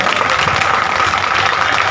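Steady, loud audience applause at a blood donation camp in Kolkata, a dense continuous clapping from a crowd that fills the whole moment without pause.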